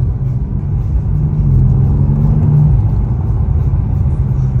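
BMW car engine revving nearby, a steady low rumble that swells briefly and settles back, loud and close with no talk over it.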